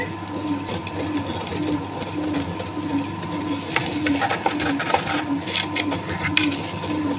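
A wet grinder churns rice batter for idiyappam in a continuous low rhythmic whir with a steady hum; a voice talks over it now and then.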